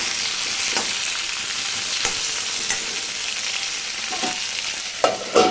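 Tomato pieces and tamarind sizzle in a hot pan while being stirred, a steady frying hiss broken by a few scraping strokes of the spoon.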